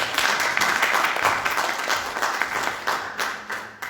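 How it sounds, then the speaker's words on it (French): Audience at a debate following a documentary film on plastic pollution applauds two panelists, full sustained clapping from many hands that gradually thins toward the end. "On applaudit les deux quand même"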